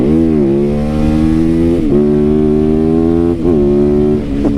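A motorcycle engine runs loud and close, its throttle ripped in repeated revving surges that rise in pitch, briefly drop back, then climb again.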